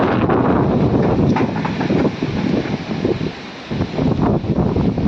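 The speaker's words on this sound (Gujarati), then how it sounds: "કેટલો બધો પવન આવી રહ્યો છે" Strong, gusty storm wind roars and buffets the microphone continuously in a village, with rustling, blowing dust and surging bursts throughout and no voices.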